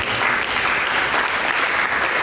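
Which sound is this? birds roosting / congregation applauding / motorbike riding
congregation applauding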